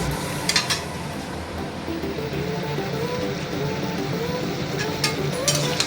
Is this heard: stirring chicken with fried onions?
yes